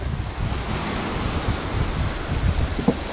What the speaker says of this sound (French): Et la mer est agitée.